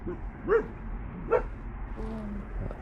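A dog barks twice, a few beats apart, followed by a softer whine, heard at moderate distance against a quiet outdoor background.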